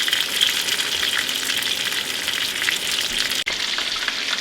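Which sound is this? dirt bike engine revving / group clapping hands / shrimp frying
shrimp frying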